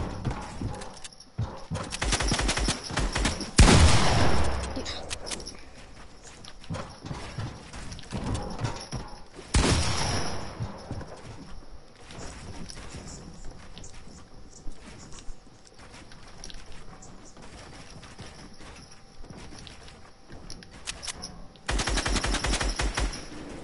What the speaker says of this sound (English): I thought we said no shooting.